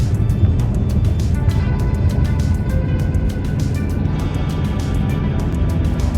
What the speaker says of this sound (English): I could actually floor it and see how well it gets up to speed